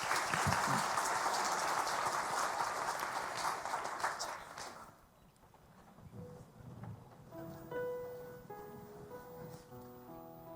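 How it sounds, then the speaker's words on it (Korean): A church congregation bursts into loud, sustained applause during a Sunday worship service; after about five seconds the clapping fades and soft, sustained instrumental notes take over. "우리 종현이 위해서 뜨거운 박수를 한번 더 격려하겠습니다."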